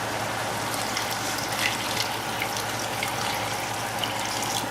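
Water pours steadily and continuously into a cooking pot nearby, a constant splashing rush without pause.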